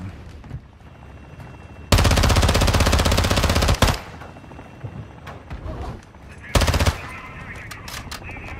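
Rapid automatic gunfire in the video game DMZ comes as two loud bursts, a long sustained volley and then a shorter one, with quieter scattered shots and game noise between them.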